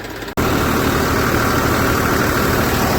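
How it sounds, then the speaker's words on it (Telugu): A tractor engine kicks in after a brief quiet moment and keeps running loud and steady with a constant low rumble. "ఇప్పుడే ట్రాక్టర్ అయితే స్టార్ట్ అయింది"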